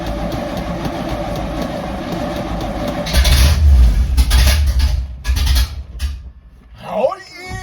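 A Project K10 car engine fires on its first start in two and a half years, cranking then running with a loud low rumble that swells and dips, with someone talking over it near the end.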